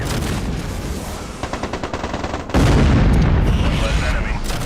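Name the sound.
explosions in Mech Commander 2 video game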